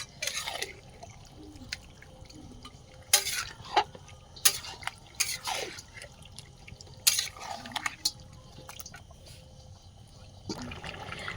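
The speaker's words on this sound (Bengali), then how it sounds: "খুব ভালোভাবে কিন্তু চিকেনগুলো কষিয়ে নেব।" Chicken being stir-fried in a pot for dum biryani cooked over a wood fire, with intermittent loud spatula scrapes and clanks against the pot over a low bubbling, sizzling background.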